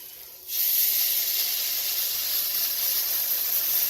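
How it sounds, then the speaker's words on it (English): Half a cup of white wine hits a hot pan to deglaze it, bursting into a loud, steady hiss of steam that starts abruptly and holds close and constant. "we're going to use a half a cup of white wine, and we're going to deglaze the pan"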